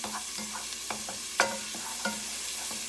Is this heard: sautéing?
yes